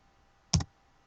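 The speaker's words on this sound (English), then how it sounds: "I might going to hit Y for yes on the keyboard" Single key press of the Y key on a computer keyboard while running a Windows command-prompt repair of a corrupted SD card; one short, close, crisp click heard alone over quiet room noise.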